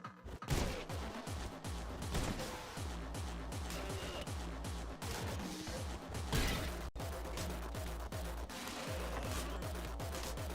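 Rapid submachine gun fire from a video game plays near and loud for the full stretch, dense bursts running together with crashing impacts under it.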